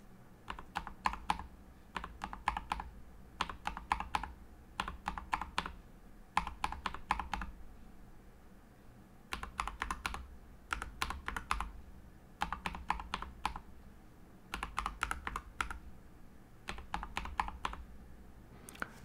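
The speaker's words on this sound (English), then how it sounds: "And I'm going to type Night Breeze switches." Bursts of rapid clacky keystrokes on a Nuphy keyboard fitted with Night Breeze switches, typed in short rhythmic runs with brief pauses between them, close and clear in a quiet room.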